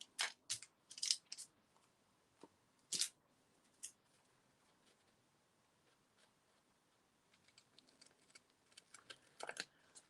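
Betty Crocker kitchen scissors cut circles from paper in a quiet craft room, giving sharp, close snips and crisp rustles in short clusters separated by near-silent pauses, with no talk.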